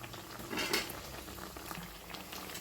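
Sabudana vada for a fasting snack deep frying in hot oil, a steady soft bubbling patter with a brief louder swell early on, no voices.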